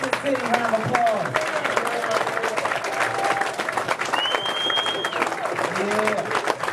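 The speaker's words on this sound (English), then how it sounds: "Cotton City, round of applause." An audience at a community event in Cotton City gives a round of applause, dense continuous clapping and crowd noise filling the space, with a few cheers and whoops rising over it.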